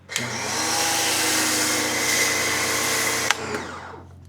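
An AVA Easy+ P50 pressure washer sprays thick foam onto car wheels, a loud, steady motor whine and hiss that starts abruptly, holds for about three seconds, then cuts off with a brief burst.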